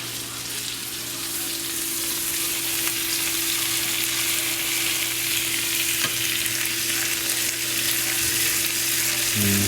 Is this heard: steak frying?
yes